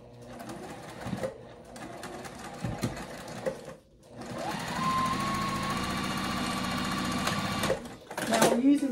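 Sewing machine stitching binding onto a circle bag with a zipper pocket and lining, short bursts of close mechanical whirring that give way to a steady longer run. A voice talks at times.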